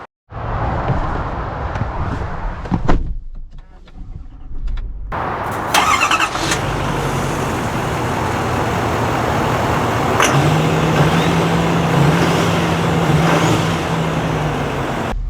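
A pickup truck door thuds, then the large engine of a 2025 GMC Sierra 3500 AT4 cranks, catches and settles into a steady idle before revving and rolling away nearby.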